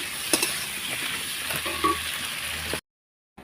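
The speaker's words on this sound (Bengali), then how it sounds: "ওটা দিয়ে ভালোভাবে কষিয়ে নিচ্ছি" Spices sizzle and crackle in a pan during a pointed-gourd curry, a dense, close frying hiss with a few sharp utensil clicks, ending abruptly in silence.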